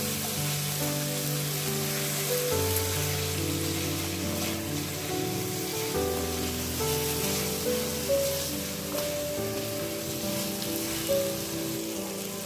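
Potatoes, chopped tomato, salt and spices sauté in a pan for chickpea bhuna, giving a steady, close sizzle that continues evenly with no voices.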